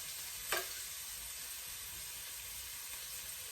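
Garlic, ginger and chilies sizzle steadily in a hot pan for ginger pork, a constant close hiss broken by a soft stirring clink near the start and another at the end.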